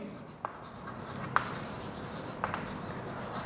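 Chalk or marker writing on a board during a geometry class, a few faint scratchy strokes and light taps spaced about a second apart in a quiet room.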